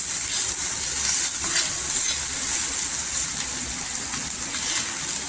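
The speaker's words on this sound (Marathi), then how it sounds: "फक्त दोन मिनिटासाठी तेलावर परतून घ्यायचं आहे छान असं" Dried bombil fish fries in hot oil in a pan for an Agri-style masala, giving a loud, continuous close sizzle with soft stirring underneath and no voices.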